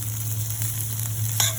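Cumin seeds and turmeric frying in a pan, a close, steady sizzle with a brief louder crackle and scrape near the end, no talking.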